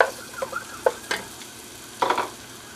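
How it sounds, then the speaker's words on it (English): Chopped onions going into a pan with garlic, where a low sizzle runs underneath while several sharp scraping stirs break out near the start and again toward the end; no one speaks. "Here's my onions that I have all chopped up. Get them cooking"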